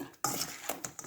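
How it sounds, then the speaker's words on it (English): Sauce gets mixed into sesame chicken with roasted sesame seeds in a pan, heard as a few short utensil scrapes and soft clinks over a light sizzle, close and fairly quiet. "Mix it."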